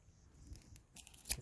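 A few quick snips of scissors cutting a plant tie on a staked Lamb Hass avocado tree, close and soft, with two sharper cuts near the end.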